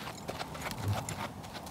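Hooves of a horse being schooled in a halter clip-clop steadily and close by at a walking rhythm, with no talk over them.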